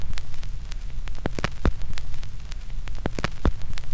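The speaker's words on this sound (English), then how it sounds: "start, and gently drop the needle on your record" Needle set down onto a spinning vinyl record on a Denon DP-3000NE turntable, giving a steady surface crackle and low hum with a few sharp soft pops and clicks, close and alone.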